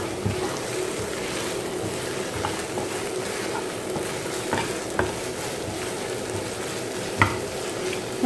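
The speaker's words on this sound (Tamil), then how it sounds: "நல்லா வெங்காயம் பச்சை வாசனை போக வதங்கணும்" Onions sautéing in a pan for a Tamil banana flower curry make a steady, even sizzle, broken by occasional scraping and tapping from stirring, with no voices.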